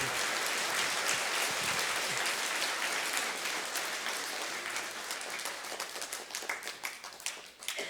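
A school audience gives a dense, sustained round of applause at a Blue Ribbon School event, loud and even at first, then thinning into scattered individual claps near the end.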